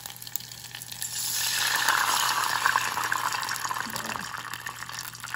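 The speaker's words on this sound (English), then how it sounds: "because we are going to add water to this pot." Water poured from a cup into a cooking pot on a stove with the flame off, a steady broad rushing splash that swells and then continues evenly at close range, with no talking.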